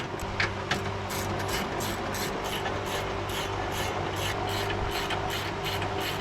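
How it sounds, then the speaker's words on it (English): A ratchet clicks in a rapid, even series while tightening bolts on a Toyota Altezza steering rack during a bush install, close over a steady background hum, with no talk. "Oh, this ratchet doesn't work. It's going in."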